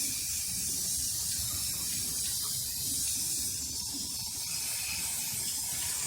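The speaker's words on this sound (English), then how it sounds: "Spraying the entire thing," Aerosol spray paint hisses steadily as a decoration and its board are coated white, a continuous close hiss running without pause and with no talking.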